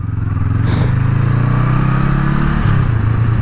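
A Honda Rebel 500 motorcycle being ridden, its engine a loud, close, steady drone that rises slightly in pitch and then eases off.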